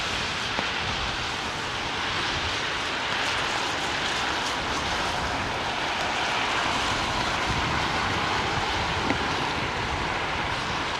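An airliner arriving on runway 27R at London Heathrow gives a steady, broad roar that fills the clip evenly, mixed with outdoor wind noise and no talk.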